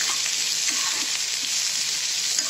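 Steady, loud sizzling of potatoes and capsicum frying in hot oil, a constant crackling hiss up close with no pauses.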